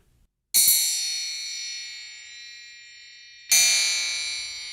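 A metal spring struck as a percussion instrument imitates a grandfather clock chime, giving two bright, ringing metallic clangs a few seconds apart, each decaying slowly into a long shimmering tail.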